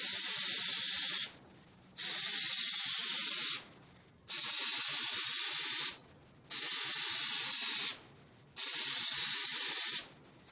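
A spray paint can hisses out a final coat on a car in five even bursts of about two seconds each, separated by short silent pauses, close and clear.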